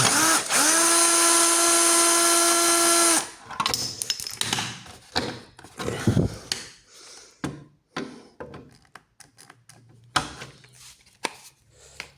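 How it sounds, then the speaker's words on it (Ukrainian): A power drill whines steadily for about three seconds while unscrewing a panel on an electric scooter, followed by scattered clicks, clunks and handling knocks of loosened parts. "А потрібно ті щитки відкрутити"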